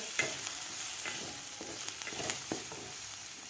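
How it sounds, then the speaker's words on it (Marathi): Dry spices sauté in hot tempering oil for a Maharashtrian masoor dal amti, a steady close sizzle broken by repeated scraping stirs of a spoon in the pan. "आता आपल्याला हे आणखीन एक ते दीड मिनिट आपल्याला परतून घ्यायचं आहे सुके मसाले घातल्यानंतर"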